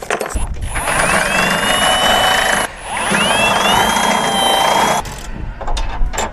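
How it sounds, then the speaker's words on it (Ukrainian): A power drill bores out a bolt hole on an URSA Optima 2500x1250x460 trailer during assembly, running loud and close in two long whining bursts with rising pitch sweeps, a short pause between them, then a brief stop. "Буду зараз розсверлювати отвір, тому що піддишило ті два болти товстих, вони не стануть."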